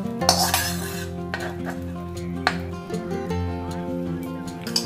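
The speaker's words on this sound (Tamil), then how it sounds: "இப்போ தாளிச்சாச்சு, இதை வந்து இந்த சட்னியில் சேர்த்துடலாம்." Steel spoon stirring a hot tempering of spices into chutney in a metal pan, scraping and clinking against the sides with a faint sizzle underneath, close and steady.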